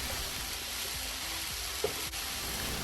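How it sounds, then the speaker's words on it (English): Shrimp seasonings tossed in a hot pan give a steady, close sizzle with faint scraping and stirring noises and a couple of soft clicks, with no talking. "Toss quickly to combine all the ingredients together."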